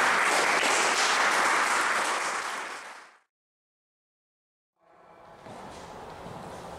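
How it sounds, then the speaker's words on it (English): An awards program audience breaks into full, dense applause that fades out into silence for over a second, then a second round of clapping swells back in. "So let's give those ladies a round of applause."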